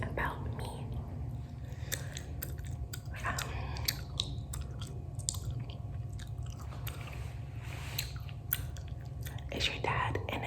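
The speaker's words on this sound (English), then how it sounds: "Today is gum chewing" Close, wet gum chewing with soft smacks and crunchy clicks, steady throughout, set against faint whispering.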